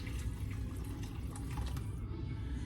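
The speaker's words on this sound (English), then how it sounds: "pour 2 cups of boiling water over top of this" A steady rush of boiling water pouring into a bowl, continuous and close, with a bright splashing hiss throughout.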